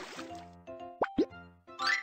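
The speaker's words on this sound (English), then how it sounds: "Soak the dirty clothes in the water." Two quick, distinct plops about 0.2 seconds apart as dirty clothes drop into water in the Baby Panda Care cartoon game, bright and close over soft background game music.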